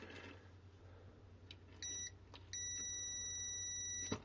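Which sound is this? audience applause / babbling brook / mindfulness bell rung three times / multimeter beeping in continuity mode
multimeter beeping in continuity mode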